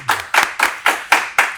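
Short burst of audience clapping for a guest on an Indonesian investment talk show, six or seven sharp, evenly spaced claps from a small group, close and fairly loud, with no talk over it.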